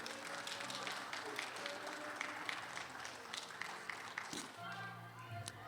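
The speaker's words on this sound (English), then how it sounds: "may we give Mr. Jouett another round of applause" Audience applause for a guest speaker at an evening event, a sustained patter of clapping with scattered sharper claps, moderately distant, with some voices and a few other sounds mixed in toward the end.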